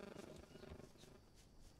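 A lion in the jungle survival game Green Hell lets out a low rumbling roar, faint and brief, with a throaty pulsing texture that fades over a couple of seconds.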